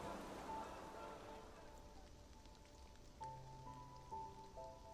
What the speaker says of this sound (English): Rain pitter-patters outside Biancow Pavilion